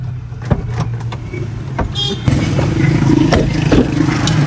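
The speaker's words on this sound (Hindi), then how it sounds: "इधर हम गाड़ी कर रहे हैं पार्क, गाड़ी होगी पार्क" A car parks in a street during rain in Sialkot, with a close engine and rumbling tyres, a few clunks and knocks, and a louder, busier patch in the second half.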